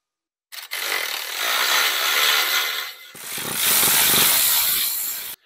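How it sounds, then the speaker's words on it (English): Power tool tightens bolts on the rear housing braces of an Allison 1000 transmission in two loud, buzzing bursts, separated by a brief pause, close up and without speech. "then you can go ahead and tighten her on down."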